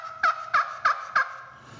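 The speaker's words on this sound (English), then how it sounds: "This was their dueling hens call." A Knight and Hail dueling hens push-pull turkey call gives four evenly spaced, sharp yelping clucks, close and clear against a quiet background.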